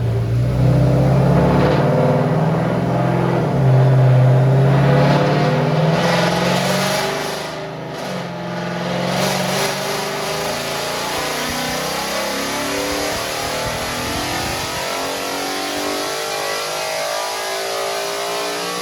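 A 5.0 car engine revs hard under load during a dyno pull, a loud sustained roar that dips briefly midway and then holds steady at high revs.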